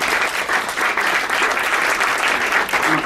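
A conference audience at a gathering of journalists applauds its panelists: a steady, dense wash of many hands clapping together, sustained at even loudness throughout with no voices standing out.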